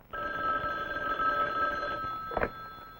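A telephone bell rings once in a steady, moderately loud burst lasting about two seconds, followed by a brief clatter, with no talk over it.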